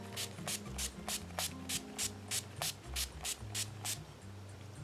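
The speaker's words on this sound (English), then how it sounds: "I'm going to put on a bit of the Primed and Ready Dewy Makeup Fixing Spray from Collection" Primed and Ready Dewy Makeup Fixing Spray from Collection is spritzed about a dozen times in quick, even bursts, each a short close hiss over a quiet background with faint music underneath.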